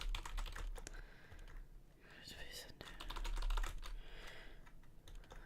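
Rapid bursts of key clatter on a computer keyboard while playing an indie adventure game, close and fairly quiet, with irregular pauses between runs of typing and a faint murmuring voice underneath.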